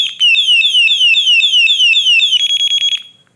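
A loud electronic bicycle horn on a solar-powered bike wails in a rapid repeating alarm-style sweep, then pulses briefly before cutting off.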